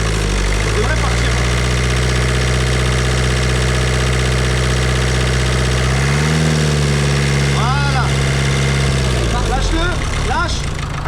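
A Renault Twingo 2 with a 1.5 dCi diesel engine idles steadily and loud, its low drone dipping briefly near the middle and again at the end, while a person talks nearby.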